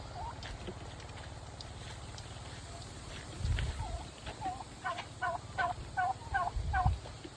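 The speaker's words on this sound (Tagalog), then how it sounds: "Dito at may naglilimlim na isang pabo." A turkey gobbles in a quick run of repeated calls, fairly close, over a steady low background hum.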